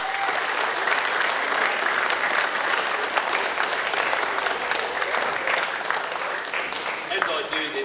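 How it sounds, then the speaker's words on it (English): A hall of schoolboys at a Year 8 prizegiving ceremony claps for award recipients, a long, steady wash of loud applause with scattered sharper claps and some voices beneath. "could you join with me in congratulating our award recipients today?"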